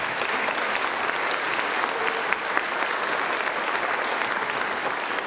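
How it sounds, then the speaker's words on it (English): Band concert audience applauding junior and senior high school soloists after violin and viola solos: a loud, dense, sustained clapping from a full crowd, steady from start to finish with scattered sharper claps. "Give them a round of applause, please"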